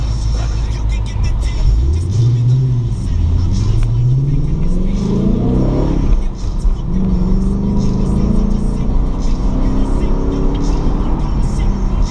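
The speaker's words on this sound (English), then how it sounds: "That's just the way I drive this damn car." A car is driven on a road near a toll booth, its engine note rising steadily as it accelerates and then settling into a steady drone inside the cabin, loud and continuous.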